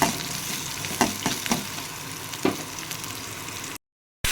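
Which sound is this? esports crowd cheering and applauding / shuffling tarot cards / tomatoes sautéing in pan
tomatoes sautéing in pan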